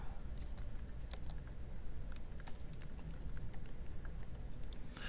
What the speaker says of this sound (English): I am going to type exit again